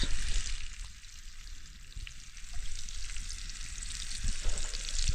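Fish frying in oil on a clay roof tile set over an open wood fire outdoors, giving a steady, close hiss and sizzle with faint crackles and occasional soft pops, and no talking.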